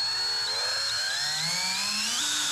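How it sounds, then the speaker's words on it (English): Power drill boring a pilot hole into a nearly new Toro TimeCutter mower deck, a loud steady whine that climbs in pitch as it bites into the metal, heard close up with no talking. "here we go, drilling into a brand new deck"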